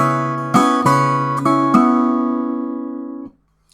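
Close, clear acoustic guitar in an arrangement of a song from Naruto Shippuden: four sharp slap-chord hits with an upstroke between them, each chord ringing out before the final one decays into silence.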